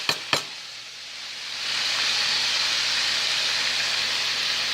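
Chopped sweet onion drops into a hot pan with a couple of sharp clatters, then a steady, loud hissing sizzle builds and holds with no talk over it.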